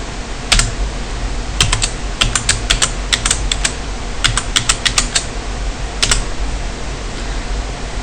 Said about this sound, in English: Password must be typed twice.